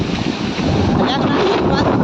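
Strong storm wind in a village roars and buffets the microphone in a loud, continuous rumbling gust, with a faint voice barely audible underneath.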